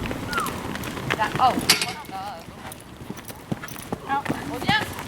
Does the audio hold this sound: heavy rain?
no